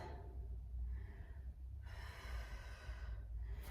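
Deep, slow breaths drawn during an abdominal exercise, a couple of quiet airy inhales and exhales close to the mic with low room rumble beneath.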